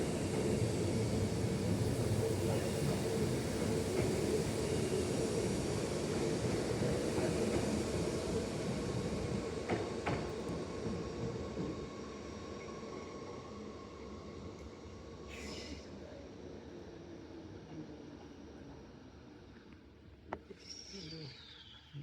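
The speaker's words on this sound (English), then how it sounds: "here goes that train to the siding now, actually departing at the same time as the Ellenbrook Line train" A Perth passenger train pulls away toward the siding, a steady close rumble of wheels and motors that slowly fades, with a brief higher squeal near the end.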